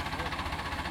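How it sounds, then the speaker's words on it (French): A tractor engine runs steadily with a low, pulsing idle-like rumble and rhythmic vibration, close and moderately quiet, with Zoé driving and passengers Lynn and Jeroen riding on the tractor. "c'est Zoé qui conduit le tracteur"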